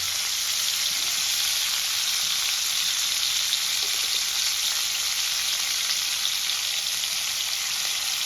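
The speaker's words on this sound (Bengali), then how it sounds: "তেলটা আমার গরম হয়ে গেছিল, আমি ফুলকপিগুলো দিয়ে দিয়েছি। এবার নুন আর হলুদ দিয়ে লাল লাল করে ভেজে তুলে নেব।" Cauliflower florets frying in hot oil with salt and turmeric for a vegetarian cauliflower, potato, pea and paneer dish: a dense, steady, crackling sizzle throughout, close and fairly loud, with no talking.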